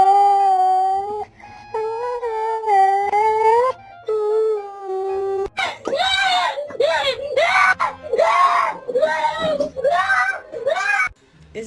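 A pet dog howls and whimpers in long rising and falling wails, first steady drawn-out tones, then a rapid run of choppy, strained yelps and cries close to the microphone.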